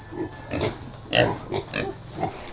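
Two F1 piglets of about 16 kilos each, settling into a new pen, give several short, close grunts and snorts in an irregular run.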